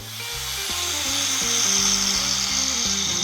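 An angle grinder cuts through a stuck footpeg bolt on a Suzuki GSF650 Bandit motorcycle, a loud steady high-pitched whine with a shifting engine tone throughout, close up and alone.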